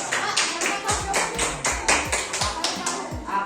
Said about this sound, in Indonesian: Tepuk tangan dulu untuk Akan.